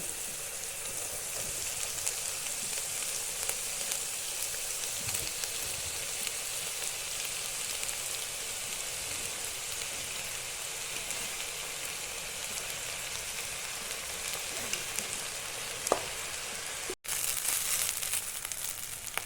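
A steady, soft sizzle of rice frying in a pan for vegetable fried rice continues throughout, with occasional faint scraping.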